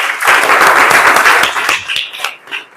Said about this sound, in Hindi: एक बार जोरदार ताली हो जाए एक बार।